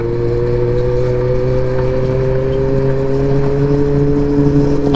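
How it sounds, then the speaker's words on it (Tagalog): Rush-hour road traffic on an uphill street in Angono, Rizal, with a truck nearby: a loud, close engine drone with a steady hum that holds at one level throughout, with no voices. "Problema natin na medyo namumuuna yung traffic."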